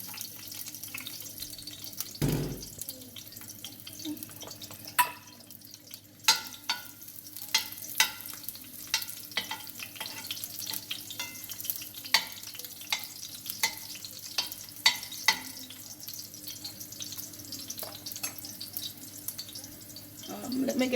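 Garlic frying in oil for Jamaican-style curry goat, a low steady sizzle with scattered sharp crackles and pops through the stretch, with a brief faint voice.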